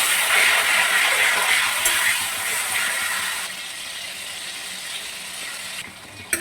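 Chopped tomato sizzling in hot oil in a pan for a Bengali rohu fish curry, a steady loud hiss that fades somewhat midway and carries on alone without talk.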